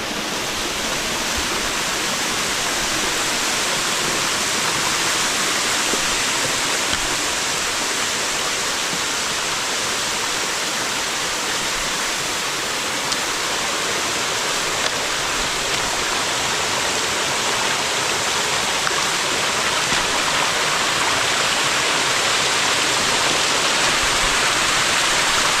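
Powerful waterfall swollen by near-daily rain, a loud continuous roar of rushing water with no pauses, close and alone.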